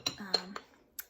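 Small diamond painting gems poured back into a little dish, giving a few light clicks and tinkles close up, followed by one final sharp tick after a short pause.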